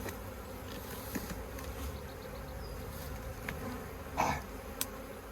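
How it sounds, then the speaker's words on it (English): Dense, steady buzzing of many bees close by, with individual insects flitting past louder now and then. "And lots of bees. Lots of bees."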